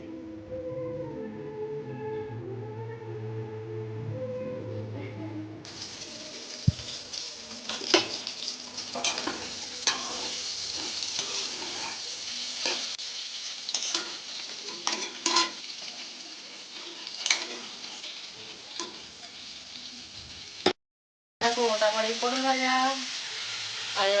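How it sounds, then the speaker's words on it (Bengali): Prawns frying in a pan for a Bengali home-style potato and prawn curry, a steady sizzle with scraping stirs and utensil clinks, after an opening stretch of voices and other sounds. "চিংড়ি ভাজা হচ্ছে"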